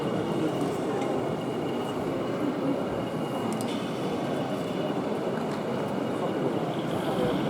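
Model railway trains run on a layout at an indoor exhibition, a steady, continuous rolling rumble that never lets up, with faint hall noise behind it.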